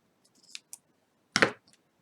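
A press-on nail tip is clipped: a couple of small clicks, then one crisp, louder snap of the cut, close and isolated in a quiet room.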